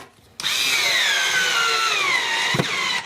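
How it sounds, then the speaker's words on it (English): A power drill runs steadily for nearly three seconds, driving screws to fix an outlet box to a garage wall, its whine drifting slightly lower under load before a brief knock near the end. "So I'm going to put this 2 screws back in to hold the box onto the wall."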